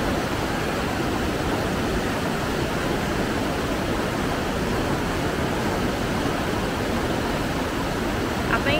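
Rushing whitewater of the Ocoee River in Tennessee, a steady broadband roar of rapids heard close and loud, unbroken from start to finish.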